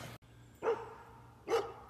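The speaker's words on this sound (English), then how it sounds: "I don't know what she's barking at." A dog barks twice outdoors, two short evenly spaced barks at moderate distance with quiet between them and no talking.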